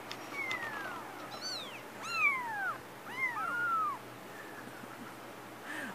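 Several high, thin kitten meows rise and fall one after another, fairly close, over a low steady hum in the background.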